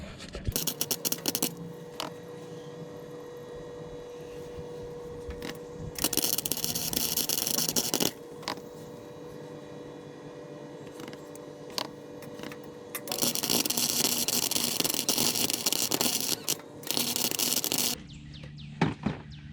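Welding on a scrap steel piece, practice before fitting slip-on rocker panels to a 2004 Silverado single cab: loud crackling buzz in long continuous bursts, close up, with short pauses between runs.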